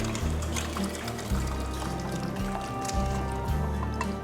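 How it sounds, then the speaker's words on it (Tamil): Cooked lentil and vegetable mix poured into simmering sambar, giving a steady wet liquid pour with soft dripping and squishing over a low continuous kitchen hum, close and moderately loud throughout. "நம்ம ஏற்கனவே வேக வச்சுருக்கிற பருப்பு காய்கறி இந்த மிக்ஸை நல்ல ஒரு கலக்கி இதில் நான் ஊற்றிடுறேன்"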